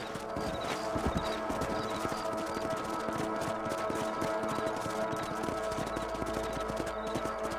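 Horse hooves clop steadily at a riding pace in Red Dead Redemption, a continuous rhythmic beat under faint background ambience and music.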